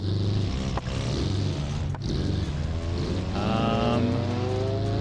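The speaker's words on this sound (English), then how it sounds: "The SBR is so loud. I think it has like open exhaust or something." A loud car engine with an open exhaust, a race car in the BeamNG driving game, roaring steadily close by with shifting pitch and a brief dip, and no talking over it.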